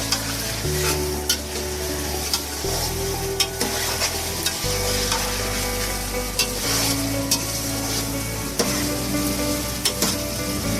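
Boiled potatoes fry in a pan for aloo ki katlian, giving a steady close sizzle with scraping stirs and light clinks repeating throughout, while a low musical bed plays underneath.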